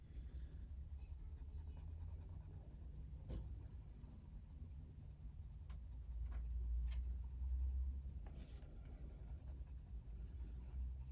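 Polychromos colouring pencils scratch softly across colouring book paper in a steady faint scribble, close and quiet under a low background rumble.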